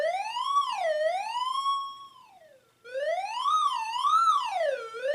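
Homemade laser theremin-like instrument playing a loud, clear electronic tone that sweeps up and down in stepped pitch, with a brief dip and gap before the wavering tone resumes, no voices.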